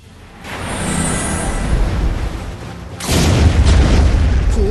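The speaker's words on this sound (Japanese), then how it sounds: "魚雷発射。" A torpedo launch blast in the naval game Abyss Horizon: a steady rumbling engine-like drone builds, then a heavy booming explosion hits near the end and roars on loudly.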